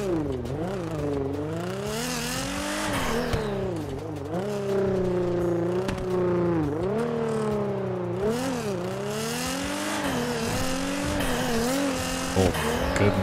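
A Nissan GT-R in GTA 5 driving hard, its engine revving up and down through the gears in a loud continuous whine, with tire squeal as it corners.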